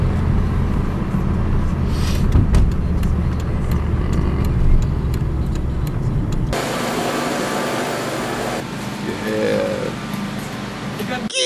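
A car climbing a mountain road toward Big Bear, with a steady low engine and road rumble inside the cabin for the whole stretch, while people talk and shout loudly over it.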